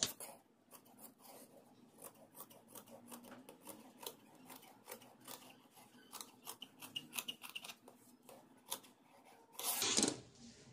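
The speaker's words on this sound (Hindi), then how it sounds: "फोल्ड करने के बाद हम इसे आधे इंच के फासले पे यहाँ से कट कर लेंगे।" Scissors snip repeatedly through folded fabric while a collar is cut out for a Cinderella-style baby gown, a quick close series of crisp cuts ending in a louder rustle of cloth.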